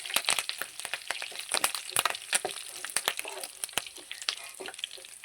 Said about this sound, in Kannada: ಬೆಳ್ಳುಳ್ಳಿ ಪಾಡ್ನು ಐನ ಎಡ್ಡೆ ಫ್ರೈ ಮಲ್ಪುಗ.